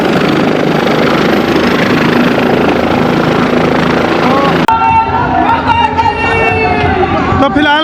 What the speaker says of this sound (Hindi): और हेलीकॉप्टर की अगर मैं बात करूँ तो ये आर्यन हेलीकॉप्टर है भाई